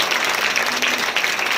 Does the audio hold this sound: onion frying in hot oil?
no